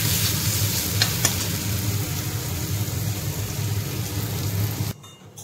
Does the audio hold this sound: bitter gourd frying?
yes